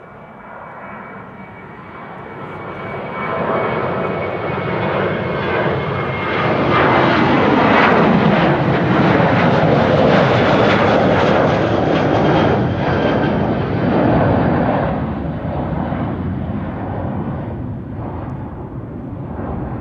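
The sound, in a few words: KLM passenger jet taking off from the Kaagbaan runway, Schiphol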